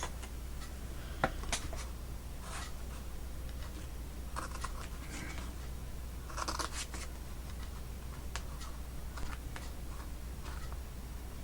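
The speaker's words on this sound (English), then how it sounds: "I'm going to have to trim that a little bit." Scissors trim paper for a Rococo shabby chic printable craft, giving scattered faint snips and crisp paper rustles against a low steady hum, close and quiet with no talk.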